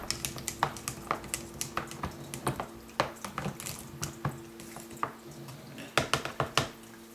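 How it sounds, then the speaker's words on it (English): Water sloshes and drips in quick irregular splashes as it is stirred with mixed-in liquid dirt for a hydroponic medium, with light clinks against a container, fairly close and steady throughout. "just agitate the water slightly, just to make sure that the liquid dirt is mixed throughout"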